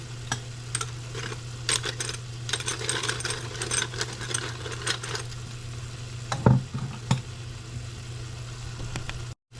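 Ground beef seasoned with Tajín, salt and pepper sizzles in a pan for soft tacos while a utensil stirs and scrapes it. Close, uneven clinks and scrapes sit over a constant low hum.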